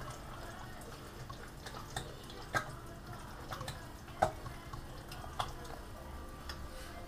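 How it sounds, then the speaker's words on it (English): Water heating in a pot on a BCB Crusader mk 2 stove burning fuel cubes, giving faint, soft bubbling with scattered small pops and ticks over a low background hiss. "See, that's bubbling away already."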